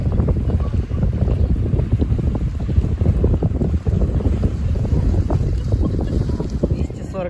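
Steady wind gusting by the Red Sea in Sharm el Sheikh, Egypt, a loud continuous rumbling buffet across the microphone with water and boat-like noise beneath, persisting throughout without pause.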